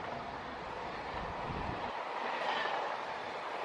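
The Gitanjali Express, a Mumbai–Howrah train, runs along the rails with a steady, fairly faint rolling rumble and wheel noise, no voices.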